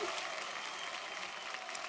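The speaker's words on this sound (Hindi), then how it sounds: "और हाँ, तालियां बनती हैं" A 2019 Filmfare Awards audience claps in a steady, dense wash of applause that holds evenly throughout, soft and somewhat distant.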